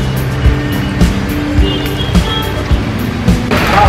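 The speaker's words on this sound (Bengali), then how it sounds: "সাউন্ড কোয়ালিটি খারাপ হতে পারে চারিদিকে গাড়ি চলছে" Cars pass along a busy Kolkata street in a constant, loud road rumble with engine drone and passing whooshes. Occasional thumps and rattles stand out, heard up close.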